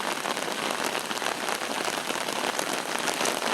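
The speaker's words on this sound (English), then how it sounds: "All this rain." Heavy rain pours steadily outdoors on a street with water running across it, making a dense, even hiss with no pauses and no voices.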